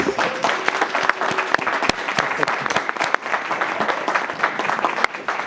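Steady applause from an audience after a school superintendent's budget presentation at a board meeting, dense clapping sustained throughout with a few sharper, louder claps standing out.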